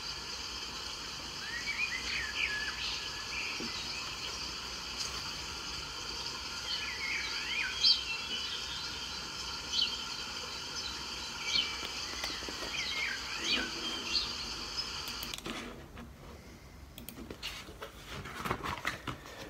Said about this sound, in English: I'm sure Mr. Straw will scare all the birds.